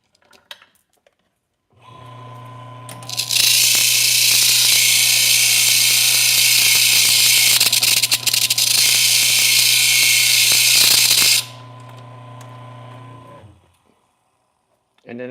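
A chain-making machine grinds burrs off a chainsaw chain, starting with a steady mechanical hum and then a loud, continuous high grinding hiss lasting several seconds before cutting off, leaving the motor droning on alone.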